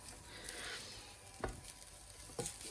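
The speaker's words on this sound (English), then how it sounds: "So I'll just mix all that in." Cottage pie filling stirred in a sizzling pan, with a steady frying hiss and a few sharper scraping strokes of the spoon, close and fairly quiet, with no talking.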